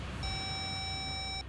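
A phone call disconnect tone: one steady electronic beep held for about a second, clean and mid-loud over a faint background hum, no voices.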